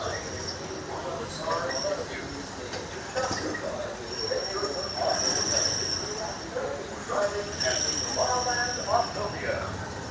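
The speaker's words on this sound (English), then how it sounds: "Monorail just pulled in." A Disneyland monorail rolls into its station with a rumbling, rattling approach and some faint squeals under a busy crowd of park-goers chatting nearby.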